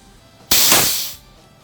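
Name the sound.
air discharging from FX Cyclone air rifle tank valve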